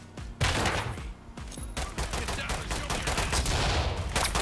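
Rapid gunfire erupts in the SWAT shooter Ready or Not, close, sharp shots in quick bursts that stutter loudly across the moment with barely a pause.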